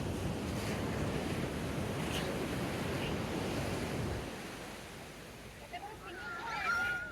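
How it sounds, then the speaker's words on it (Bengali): Strong ocean surf breaks on the beach at Puri, a loud close roar of crashing water for several seconds that eases into a softer wash, with a voice speaking near the end. "ঢেউটা অসাধারণ"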